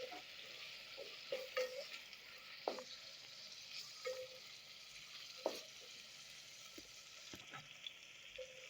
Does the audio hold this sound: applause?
no